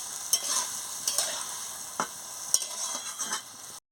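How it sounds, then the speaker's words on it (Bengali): Vegetables with mustard paste thinned in water are stirred in a frying pan, a spoon scraping in several distinct strokes over a soft, continuous sizzle, close and fairly quiet. "দিয়ে ভালো করে নাড়িয়ে নিচ্ছি"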